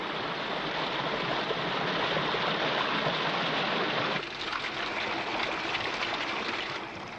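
A small, tiny mountain stream flows loudly and close by, a dense, continuous rushing splash that eases slightly in level near the end.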